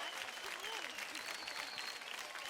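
Studio audience applause on a Marathi televised dance competition show, dense continuous clapping at moderate distance filling the whole moment, with faint cheering mixed in.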